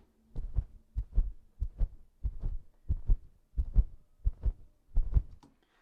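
Heartbeat sound effect with EQ applied: nine evenly spaced double thumps, a low lub-dub repeating in a steady rhythm, close and alone with no talk.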